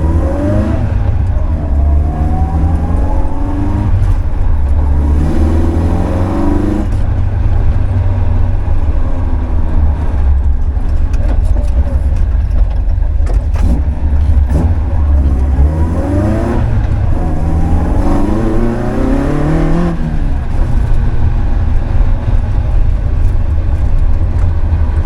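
A 160+ bhp 1979 Austin Morris Mini on an industrial estate accelerates in several gentle pulls, its engine rising and falling in pitch over a steady low drone heard from inside the car.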